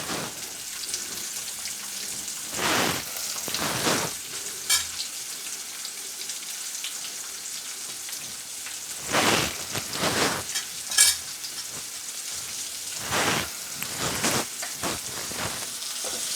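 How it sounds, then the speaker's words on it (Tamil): Onions and green chillies sizzle softly in a pan for a Pongal feast dish, a steady quiet crackle broken by several louder bursts as they are stirred. "இப்போ நான் வெங்காயம் போட்டுக்கிறேன்."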